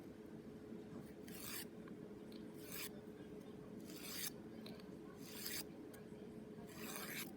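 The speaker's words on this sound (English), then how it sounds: "And then you'd use your Kanga file, your 240 grit file," A fingernail being shaped with a 240 grit nail file, about six faint, separate rasping strokes at an even pace against a quiet background.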